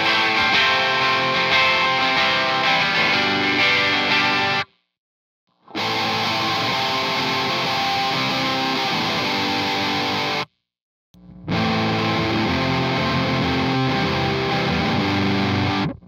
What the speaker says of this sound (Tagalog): natatabaan sa tunog na binibigay ng fuzz